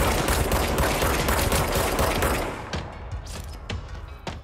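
Dense automatic gunfire in the video game Control, a loud continuous burst of shots that thins out into scattered single cracks toward the end.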